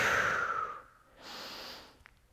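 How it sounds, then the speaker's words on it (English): A person exhales deeply through the nose during a hip and back stretching exercise. A long breath is followed by a softer second breath and a faint click near the end. "Take a big breath in"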